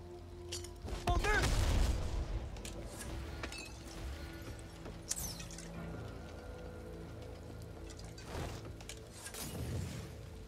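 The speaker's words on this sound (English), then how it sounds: "That's the Molotov and the grenades." Molotov cocktail and grenade explosions in the zombie shooter Back 4 Blood at a weapons range: a whooshing burst of flame followed by a few scattered blasts and crackling debris, moderately loud over a low ambient hum.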